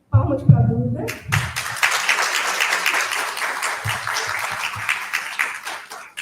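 Audience applause at a university round-table session on language teaching, a sustained wash of clapping filling the room for several seconds after a brief spoken lead-in, with scattered thumps as it tapers.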